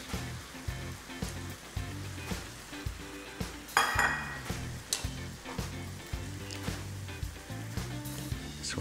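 Two cans of tomato sauce poured into a pan of sausage pasta, where it sizzles and fries steadily while a utensil stirs and scrapes the pan in a repeating rhythm. A louder splash of sauce lands midway.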